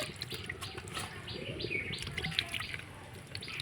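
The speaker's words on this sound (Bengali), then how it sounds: "আমি ঠান্ডা জল দিয়ে ছানাটাকে ধুয়ে নেব গরম অবস্থায়" Warm chhana (cottage cheese) being rinsed under cold running water, a faint steady splash and trickle with soft bird chirps in the background, no one speaking.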